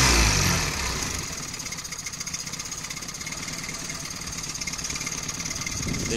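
A boat engine idles on the Linge river at Acquoy with a steady, throbbing mechanical rhythm, close and continuous, with no voices over it.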